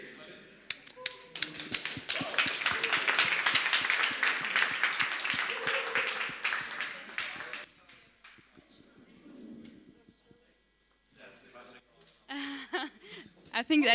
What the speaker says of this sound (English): give them a lot of applause for our speakers today